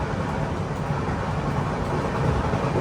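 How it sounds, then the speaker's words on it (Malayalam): Ernakulam Patna Express running at about 100 km/h, a loud, steady rumble and roar of the moving train heard from on board with no break. "ട്രെയിൻ ഇപ്പം 100 km/h സ്പീഡിലാണ് പോകുന്നത്."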